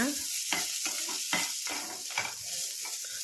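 Onions sauté in a pan for brinjal masala, a continuous close sizzle broken by regular stirring scrapes roughly every half second.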